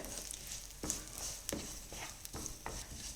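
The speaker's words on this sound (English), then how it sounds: "Now to this, I'm going to add in 2 tablespoons of sesame seeds and about a tablespoon of red chili flakes, and stir this well." Garlic, ginger, sesame seeds and red chili flakes stirred in hot oil, a faint sizzle with repeated light scrapes of a spoon, close and fairly quiet.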